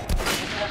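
A revolver fires once in the video game Metro Last Light Redux, a sharp, loud report with a short rumbling tail.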